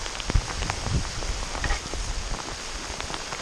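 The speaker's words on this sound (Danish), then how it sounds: "Her regnet det litt. Bittelitt." Light summer drizzle falls outdoors on a canoe trip, a dense, steady patter of small raindrops on nearby surfaces with occasional heavier taps, no talking.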